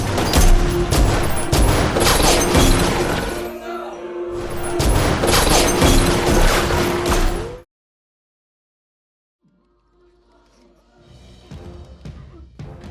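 Gunfire erupts in a film scene as a woman shoots several men in a room: dense, loud bursts of shots and impacts for several seconds, then abrupt silence, followed by quieter scattered sounds.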